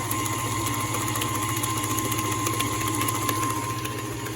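An electric mixer on a low setting churns carrot cake batter with grated carrots, producing a steady, even motor drone that holds from start to end without a break.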